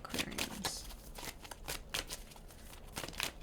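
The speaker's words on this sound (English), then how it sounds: "I'm going to shuffle 5 times" Tarot cards being shuffled by hand, a run of soft papery riffles and flicks repeating in quick irregular bursts, close and fairly quiet with no voices.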